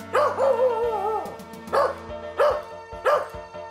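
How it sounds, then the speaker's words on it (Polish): A dog barks loudly and close by, several drawn-out, whining barks in a row with brief pauses between them. "Klara, słyszysz, jak szczeka ten pies?"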